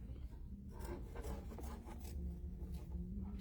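Trimming a stitched pumpkin coaster with scissors or a cutting tool makes a close, steady rasping and rubbing sound in repeated strokes, with no talking.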